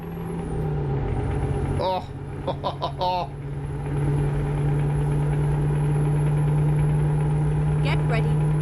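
A Scania truck engine in Euro Truck Simulator 2 gives a loud, steady low drone while cruising at speed, holding constant under the whole stretch, with someone briefly speaking over it.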